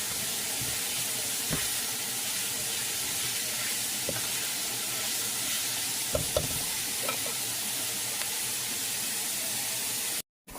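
Flour being stirred into gravy in a pan while beef stroganoff cooks, a steady sizzling hiss with occasional soft scrapes and clinks of the utensil, close and continuous.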